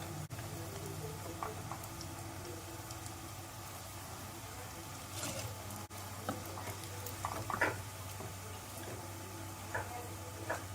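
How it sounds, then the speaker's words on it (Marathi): Gobi manchurian deep frying in hot oil, a steady dense sizzle and bubbling throughout with occasional soft clinks and stirring noises, close and continuous, with no talking. "आता हे दोन्ही बाजूने छान क्रिस्पी तळून झाले आहेत"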